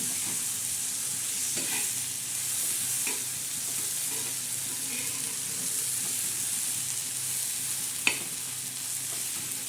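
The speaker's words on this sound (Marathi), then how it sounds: "छान अशी भाजी तळायची" Ran pathri greens frying in a pan with onion and a stone-ground garlic-chili paste, a steady broadband sizzle throughout with occasional light clicks of the stirring spoon near the start and a sharper tap toward the end.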